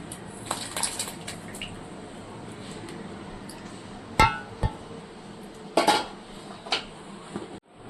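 Metal utensils scrape and clank against pots while vathal kuzhambu curry is transferred into a pot, with a few sharp clinks and knocks scattered through, close by, no voices.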